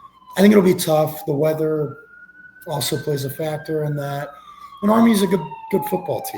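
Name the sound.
police car sirens passing outside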